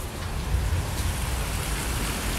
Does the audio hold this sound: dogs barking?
no